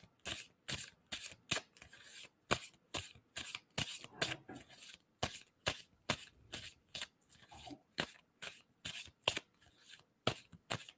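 Tarot cards being shuffled by hand, a long run of crisp, rapid riffling bursts in a steady rhythm, close up with no talking.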